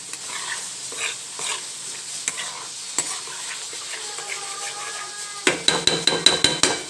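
Black chana curry stirred and mixed in a pan, a steady sizzle under scraping spoon strokes, ending in a run of sharper, rhythmic clanks against the pan.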